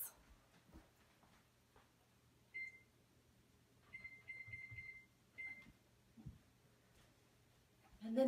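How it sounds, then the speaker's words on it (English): A timer alarm goes off in a quiet room as a series of thin electronic beeps: a short burst first, then a longer run of rapid beeps, then one more brief burst. The beeps are faint against soft background rustling. "It's the timer's going off."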